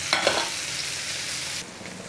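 Paneer cubes frying in oil in a pan give a steady, close sizzle with a few stirring scrapes near the start, fading slightly toward the end, no voices.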